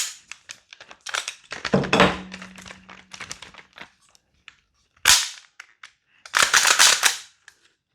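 A Salvo Precision SURG gas blowback airsoft rifle fires in sharp cracking shots with clattering action noise, a cluster early on and then isolated louder bursts, with no talk over them.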